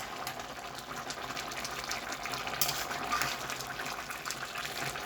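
Rice bubbling in a pot of water as the liquid cooks down for chicken pulao, a steady, close, moderately loud hiss and gurgle that runs continuously with no talking.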